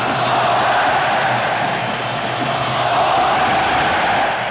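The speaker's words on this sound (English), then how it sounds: "Sounds of the bull ring now from the crowd." A football stadium crowd at a Spain v Scotland World Cup qualifier roars continuously like a bull ring, a dense, loud and sustained wash of massed voices with no break.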